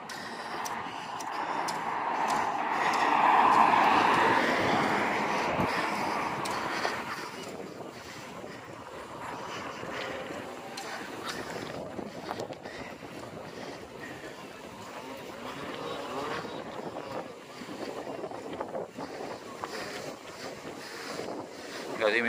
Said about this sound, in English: You can tell by that pole there, that rattling,